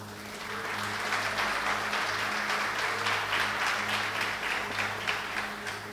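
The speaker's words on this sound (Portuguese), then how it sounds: "Vamos aplaudir o Senhor?" A church congregation applauds steadily for several seconds, the clapping moderately loud and continuous over a low sustained hum.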